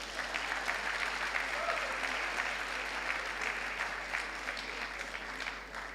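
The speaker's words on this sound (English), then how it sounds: "I think we, members of the Slot family, deserve a round of applause" An audience at an annual celebration and awards ceremony applauds during a keynote speech, a steady wash of clapping that holds evenly throughout, with a low hum underneath.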